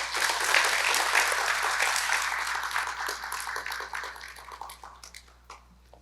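Hall audience at a 2024 autism festival applauds after a speech, the clapping full at first and then gradually thinning and fading out.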